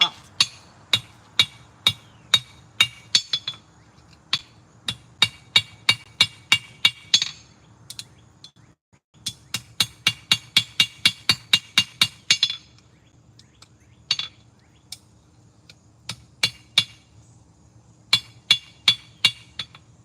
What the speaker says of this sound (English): I just forge welded a wire from my wire brush into my piece.